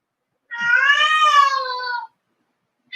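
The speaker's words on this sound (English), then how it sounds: "If you hear my cat" A house cat meows once in a long, drawn-out cry lasting over a second, close and clear, with silence before and after during a live painting stream.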